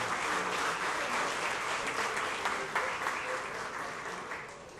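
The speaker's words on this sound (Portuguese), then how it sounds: "Uma salva de palmas para a tia Penha" An audience at a solemn civic session applauds for Tia Penha, sister of former Rio Branco player Erli Silva. Dense, even clapping continues steadily and fairly near throughout.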